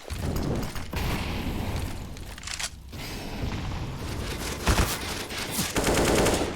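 Dense automatic gunfire sprays from a Counter-Strike: Global Offensive match on Nuke, loud overlapping bursts and booms running almost continuously, with a short lull near the middle.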